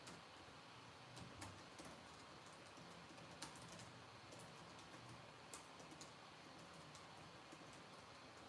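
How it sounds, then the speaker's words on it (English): Quiet, rapid clicking of keys on a computer keyboard at a craft desk, a steady patter of light taps with a few sharper strikes over faint room hiss. "let me just type in"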